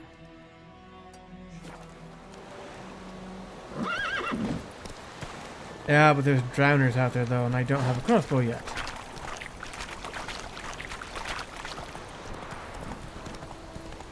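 Roach the horse in The Witcher 3 trots with rhythmic hoof clip-clops and gives a whinny, while someone talks over it and splashing water pours nearby.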